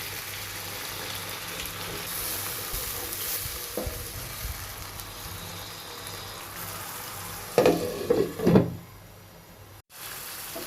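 Spice paste for pigeon curry sizzles and fries in a pan while being stirred, a steady crackling hiss with louder scraping stirs near the end before a brief hush.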